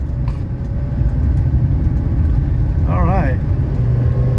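A 1985 Mercedes 300D diesel engine drones steadily and close on the road as it accelerates and the transmission kicks down a gear, with a brief rising whine partway through and a man's short remark over it.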